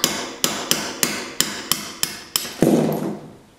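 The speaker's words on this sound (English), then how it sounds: "that's what we're going to drive out with a punch and a hammer" Hammer striking a punch to drive a part out of an engine during a Doodlebug conversion: about eight sharp, evenly spaced metallic taps, close and loud, ending in a short ringing knock.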